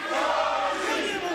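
A video-game wrestling crowd in Super Shogun Wrestling cheers loudly and steadily, a dense roar of many voices filling the whole moment.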